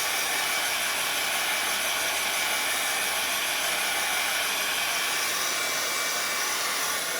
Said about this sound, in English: let me just give it a quick shot of my dryer